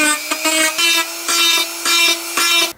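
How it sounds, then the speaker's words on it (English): Hand sanding with sandpaper along the freshly cut edges of a plastic airbox on a Ford Focus ST: loud, close rasping strokes in a steady back-and-forth rhythm, about seven passes with short breaks between them. "now I'm just going to use some sandpaper and clean up all the edges"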